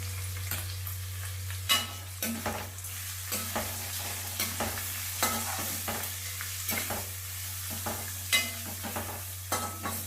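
Onions frying with salt and turmeric for Karnataka-style raw mango rice, stirred with repeated scraping strokes over a gentle sizzle and a steady low hum, moderately quiet and free of speech.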